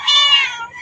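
A cat at a temple home in Lampang gives one drawn-out, loud, close meow, with no voices over it.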